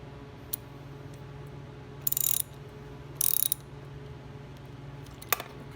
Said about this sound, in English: we're going to tighten everything up with either a ratchet set or the open end